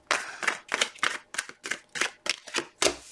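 Tarot cards are shuffled in quick bursts, about eight crisp riffling flutters spaced roughly a third of a second apart, close and clear with brief pauses between each.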